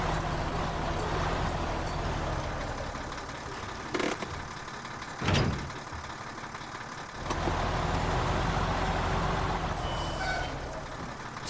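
A heavy truck hauling a trailer in the off-road driving game Snowrunner drones steadily. It gives a brief air-brake hiss midway, with faint beeping near the end.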